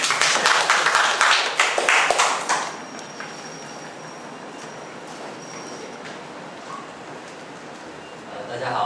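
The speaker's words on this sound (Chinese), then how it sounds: "我们掌声欢迎嘉伟。" Audience applause at a small self-introduction meetup event in Kaohsiung, a dense burst of clapping for about three seconds that quickly fades into quiet room tone.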